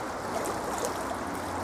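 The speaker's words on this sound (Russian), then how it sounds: "Давайте еще присмотримся к этому чудесному водотоку." A strong stream pours as a wide jet of water near the Prorva and Goryachka lakes in Kyiv, a steady broadband rush and gurgle heard close up without pause.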